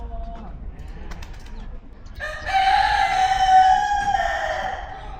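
A rooster crows once in a long, loud, drawn-out call after a few quieter bird noises inside a zoo enclosure in Daegu, with faint background chatter.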